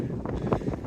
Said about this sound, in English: It's much less windy down here.